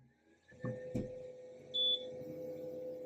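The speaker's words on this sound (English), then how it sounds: "I heard it beep and I hear it moving, so I think it really is connected now." An xTool P2 laser engraver powers on with a short electronic beep, followed by a low steady hum of the machine running, all fairly quiet with a couple of faint knocks before it.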